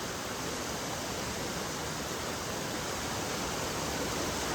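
Gurje Jharana waterfall pours in a steady, dense broadband roar that stays constant and close throughout, with no voices over it.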